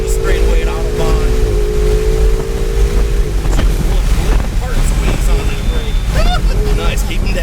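A supercar's engine revs down the straightaway at Autobahn race track, a steady droning pitch that holds and then falls away under heavy wind buffeting, with people talking over it.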